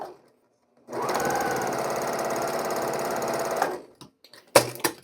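A sewing machine chain-piecing quilt squares along the diagonal runs in one steady, close whirring stitch burst of about three seconds, then stops, followed by a few small clicks and handling sounds.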